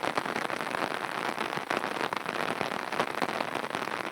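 Steady rain falls on open hillside grazing land, having picked up from a light drizzle. It makes a faint, even hiss of drops that continues without a break and with no voices over it.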